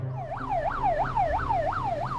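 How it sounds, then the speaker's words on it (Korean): A fire engine's siren wails in fast, repeated rising-and-falling sweeps, answering smoke from burning rubbish in a quiet mountain village. It is loud and steady, with a low engine rumble beneath it. "급기야 소방차까지 출동했습니다."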